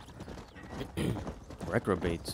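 Horse hooves clip-clop in the western video game Red Dead Redemption, a soft rhythmic plodding under a voice, with the steps growing clearer and louder toward the end.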